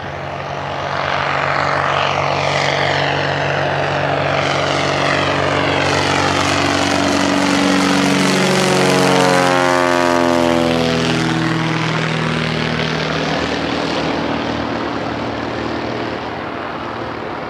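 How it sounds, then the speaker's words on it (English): A small propeller airplane takes off from the Johnson Creek backcountry airstrip in a narrow canyon, its engine roar building loud and close, peaking as it passes with a sweeping pitch shift, then fading steadily into the distance. "to see what the takeoffs are like here. This guy got off pretty quick."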